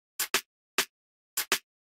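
Six short, crisp snare sample hits from a remake of a song in an uneven pattern, bright and snappy with a noisy rattle, played alone with silence between them.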